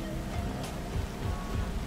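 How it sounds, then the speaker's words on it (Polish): Steady rain pours in the video game Cyberpunk 2077, a continuous, even hiss with a soft low rumble underneath, no voices over it. "Ale pada deszcz zresztą."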